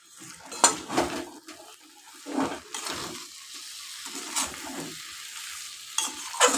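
Shrimp go into masoor dal in a pot, followed by close, intermittent stirring scrapes and soft clinks against the metal over a faint sizzle, with no voices.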